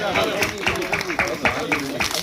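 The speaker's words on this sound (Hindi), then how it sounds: "मतलब तालियां तो बनती हैं।" An audience at a music launch event claps in quick, fairly even bursts, the applause fairly close and moderately loud beneath a voice talking over it.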